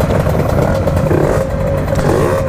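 Motorcycles, including a Kawasaki Ninja RR, rev and speed along a road, a loud, close engine drone with a wavering pitch that rises and dips as throttles open, alongside some rattling clatter.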